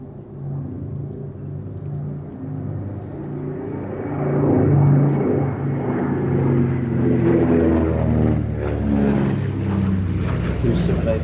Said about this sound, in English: Now this is a very easy aircraft to fly. It does handle like a fighter